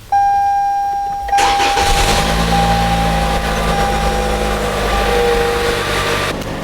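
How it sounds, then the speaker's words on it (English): A 2018-2023 Toyota Camry 2.5L four-cylinder engine cranks and catches after a steady chime, then settles into a smooth, loud idle that drones on close by until the end. "We're going to turn on the engine"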